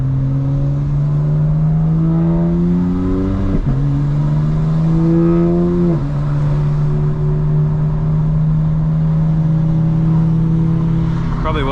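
A modified 2025 BMW M4 Competition xDrive engine drones steadily and loudly, its pitch climbing through gear shifts with brief dips between, a throaty exhaust tone throughout.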